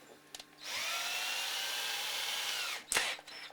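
A long-series 2.5mm drill bores through a guitar fret into the dovetail joint of a Gibson archtop under restoration, a steady whining run of about two seconds between brief clicks, close and alone.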